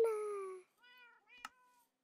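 A cartoonish cat meows in the video game My World: one long clear tonal meow followed by two shorter, higher mews and a brief click between them, close and isolated with no talk.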